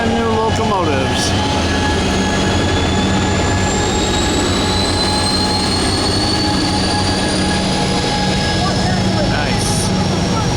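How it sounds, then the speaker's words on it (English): A brand-new locomotive rolls past a station at close range, a loud continuous roar with high squealing wheel tones sliding across it, while voices sound faintly underneath. "One of the brand new locomotives."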